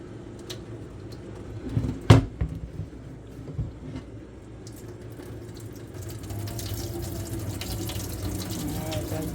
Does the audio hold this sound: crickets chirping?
no